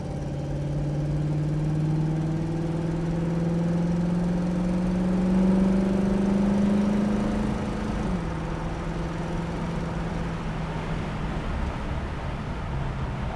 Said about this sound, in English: Running through the gears here a little bit.